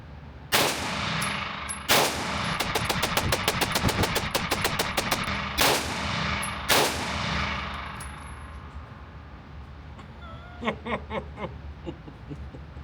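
Shots from a Springfield Armory KUNA 9mm pistol-caliber carbine at a range. Sharp close reports come singly at first, then a fast string of rapid shots follows, and a few fainter distant pops are heard near the end.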